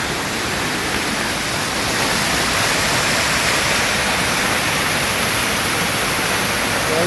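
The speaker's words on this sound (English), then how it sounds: "All right, one last look at the falls." A waterfall on a creek in the Hercules-Glades Wilderness roars steadily nearby, a loud, unbroken broadband rush of falling water that swells slightly partway through.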